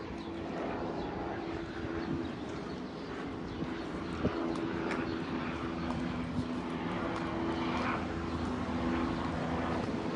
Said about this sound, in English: Let me show you the helicopter.